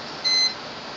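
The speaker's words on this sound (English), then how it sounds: "That stupid thing on the front keeps beeping every time you turn the damn thing on." A computer's front panel gives a single short electronic beep at power-on, a brief clean tone above a steady fan-like hiss.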